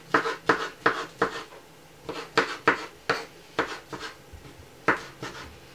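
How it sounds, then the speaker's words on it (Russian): A knife chops mushrooms on a cutting board in quick clusters of sharp taps, close and crisp, with short pauses between the bursts. "Произвольно нарезаем грибы."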